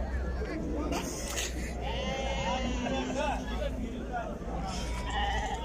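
Lambs and sheep bleat repeatedly at a busy Uzbek livestock market in Surxondaryo, several calls overlapping against a steady background of crowd chatter and nearby voices.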